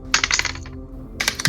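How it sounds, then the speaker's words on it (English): Dice for a tabletop D&D game clatter across a hard surface in two short bursts of rapid clicking rattles, close and crisp with a brief pause between. "I love the sound of D&D dice."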